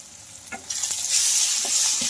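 Salted vegetables sizzle steadily in a frying pan while a spoon stirs them, with a few sharp scrapes and a broad hiss swelling after the first moments, close and alone.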